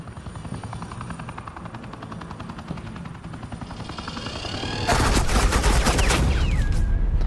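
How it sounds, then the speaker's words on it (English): Suppressing gunfire in the video game Batman: The Enemy Within arrives as an engine-like drone that builds, then a sudden loud burst of rapid automatic fire, dense and continuous, with a whistling tone near the end. "This is Agent Quinn, suppressing fire."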